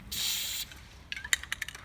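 Short burst of spray from an aerosol spray can holding silver finish, a steady hiss lasting about half a second, followed by faint scattered clicks and rattles nearby.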